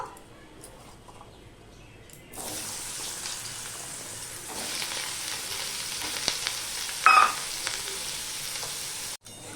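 Potatoes frying with salt and turmeric in a home kitchen: a quiet hiss swells into a louder, steady sizzle after a couple of seconds, with faint clinks of stirring, then cuts off abruptly near the end.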